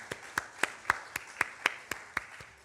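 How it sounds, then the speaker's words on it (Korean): Steady, rhythmic congregation applause at a church service, in an even beat, about ten sharp claps in a row, fairly close and moderately loud. "박수 한번 여러분 크게 격려의 박수, 축하의 박수 보내드리겠습니다"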